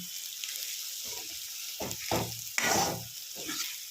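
Snake gourd (chichinga) frying in a pan with a steady close sizzle, broken by several bursts of stirring and scraping, no voices.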